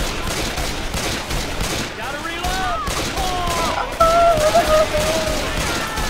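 Video game gunfire rattles continuously in dense rapid bursts, loud and close, layered with tonal game sounds and music throughout.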